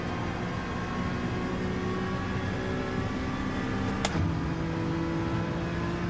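Honda NSX race car engine in Gran Turismo 7 during an online daily race, a steady droning engine note held throughout with a brief sharp shift or pitch change near the end, no talking.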